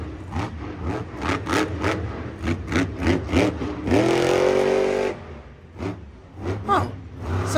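Monster truck engine at a Monster Jam event in San Diego, pulsing through repeated throttle blips before a sustained full-power rev in the middle, then dropping back to choppy bursts, loud and close.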